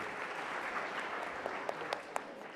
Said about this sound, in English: So big clap for the Biomedical Institute.